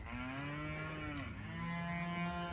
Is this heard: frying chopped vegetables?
no